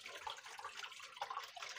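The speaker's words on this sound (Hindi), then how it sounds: "अभी मैंने इसको खोला, पानी बाहर आना जो है ना वो शुरू हो गया" Water drains out of an LG top-load washing machine, a close, continuous gushing trickle with a bubbly, splashing texture and no speech.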